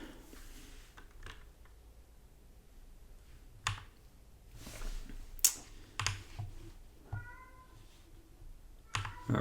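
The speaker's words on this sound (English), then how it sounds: "So that's my cat going." A house cat meows a few times, short and fairly close, over a quiet room where computer keyboard typing and mouse clicks tap intermittently.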